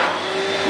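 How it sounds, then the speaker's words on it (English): An electric hand dryer in a restaurant restroom runs with a steady, loud broadband blowing roar that holds constant throughout, close by and alone. "So we've got a hand dryer, does it work?"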